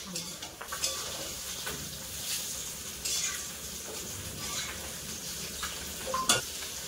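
Cumin powder being stirred into a frying pan with a soft sizzle underneath, while a utensil scrapes and clinks against the metal in irregular bursts, close and moderately quiet.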